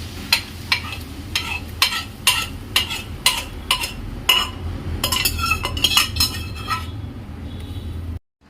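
Boiled masoor dal being stirred into a fish head curry in a pan, a spoon scraping and clinking against the metal in a steady rhythm of strokes over a low simmering sizzle, close and alone, ending abruptly.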